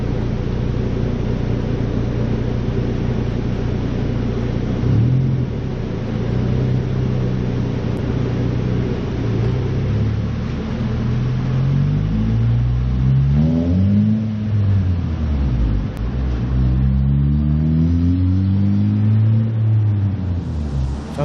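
A 2012 Honda Civic Si engine with a new downpipe revs repeatedly with a loud, throaty exhaust, pitch rising and falling in several swells over a steady idle rumble.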